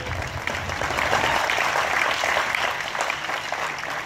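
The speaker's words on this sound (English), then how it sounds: "Can you give him a big round of applause?" Moderate applause from a concert audience at a University of Texas at Arlington jazz band performance, a steady, even patter of many hands clapping throughout.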